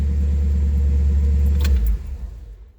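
An old 1956 Buick engine with Smithy's exhaust idles with a deep, throaty exhaust rumble close by, then cuts out, leaving a faint fading hum.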